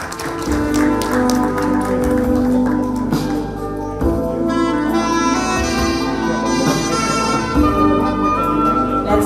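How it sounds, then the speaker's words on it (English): Audience applause at an Air Cargo Agents Association of India (ACAAI) event, a dense steady clapping that fills the whole stretch, mixed with loud stage music playing underneath. "A round of applause."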